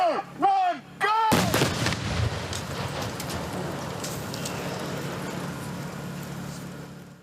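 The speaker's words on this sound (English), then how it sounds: "He didn't have to do much acting when this explosion went off in front of him." A gasoline explosion in a trench is set off as a film stunt at Big Sky Ranch in Simi Valley. A short voice is followed by a sudden loud blast, then a long crackling roar that slowly fades.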